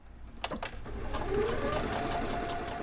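A sewing machine stitches fabric for angel gowns, a steady mechanical running close by after a few brief clicks at the start.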